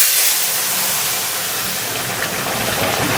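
Vegetables drop into hot oil tempered with black and white cumin, giving a loud, steady sizzling hiss that fills the kitchen without a break.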